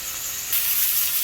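Food frying in a pan while golden turmeric cauliflower rice is prepared: a soft hiss that swells into a brighter, steady sizzle partway through, close and continuous with no talking.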